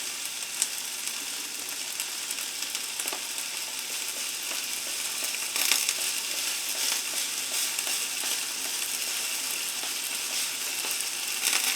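Food sizzles steadily in a hot pan as Michael's Magic Marinade is poured in, a dense, loud frying hiss with small crackles and pops, no talking.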